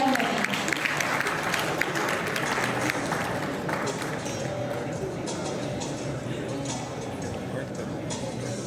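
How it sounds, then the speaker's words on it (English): Audience applause welcoming a doctor to the stage at a urology association talk, steady broadband clapping sustained for the whole stretch at even loudness, dense crowd texture without pauses. "Can we have a round of applause to welcome Dr."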